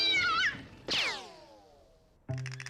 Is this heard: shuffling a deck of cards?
no